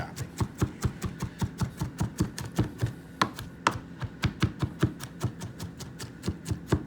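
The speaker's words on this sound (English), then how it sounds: "So after I chop some, I'm really chopping." A knife chops rapidly on a cutting board, dozens of sharp, evenly spaced taps in a fast steady rhythm, close by and alone.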